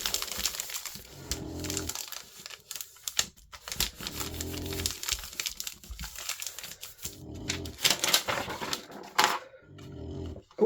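Washi tape is rubbed down onto a card, making close, crinkly scraping and rustling strokes that come in irregular bursts for about ten seconds, with no talking.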